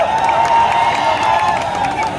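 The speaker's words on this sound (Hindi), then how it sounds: "जोरदार तालियां हो जाए।" A large crowd applauds and cheers at the Adipurush trailer launch event in Ayodhya, a loud, steady roar of claps and voices.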